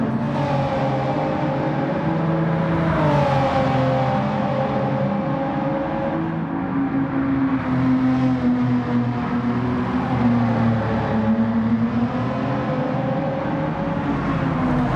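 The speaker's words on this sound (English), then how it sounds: "Exhaust sound is muffled by the turbos being in between." Turbocharged car exhaust in Gran Turismo 7, a muffled engine drone with the turbos between engine and exhaust, holding a steady tone with gentle rises and falls in pitch, continuous and fairly loud with no voices.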